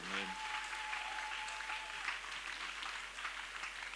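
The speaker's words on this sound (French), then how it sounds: "Acclamons bien fort le Seigneur." A church congregation applauds steadily throughout, a dense, even wash of clapping that stays at a constant level with no pauses, and no talk rises above it.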